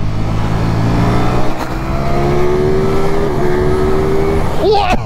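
An 1100 cc motorcycle engine spins near 15,000 rpm, holding a loud, sustained high-revving drone with a tone that climbs slightly, while someone talks over it.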